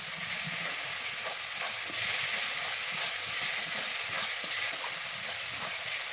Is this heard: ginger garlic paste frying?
yes